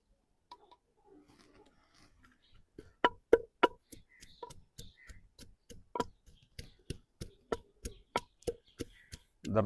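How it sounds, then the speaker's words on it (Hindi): Ginger is chopped coarsely with a knife on a board: quiet, close, evenly spaced sharp taps in a steady rhythm, starting after a few soft handling sounds. "अदरक को मोटा मोटा काट लेना है।"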